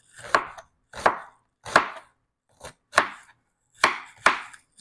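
A knife slices through an onion on a cutting board, giving seven crisp, evenly spaced chops, close and clear, with silence between strokes.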